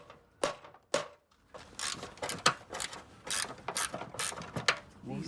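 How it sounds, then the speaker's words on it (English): A hand ratchet with a 5/16 socket works screws out of the rear valance of a Mercedes R107, making close, brisk clicking bursts in uneven runs with metallic handling knocks between them, and no talking. "Let's see how many of these little screws we can get out by bashing them in with the 5/16 socket"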